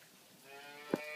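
A cow lets out a single short, low moo in steady rain on a farm lot, quiet and at some distance.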